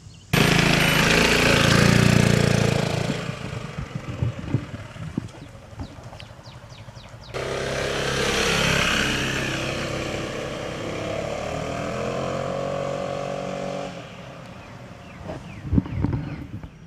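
A 2010 Piaggio MP3 400 three-wheeled scooter being ridden, its engine droning and shifting in pitch as it passes and moves off, from moderate to quieter distance, with wind noise and no talking.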